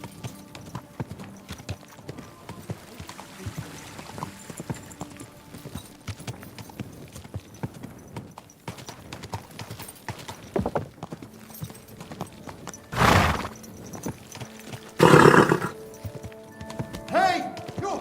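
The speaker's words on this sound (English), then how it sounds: "Your horse nearly trampled me!" Steady horse hooves clip-clop through busy ambience in Kingdom Come: Deliverance 2, with a couple of loud bursts near the end.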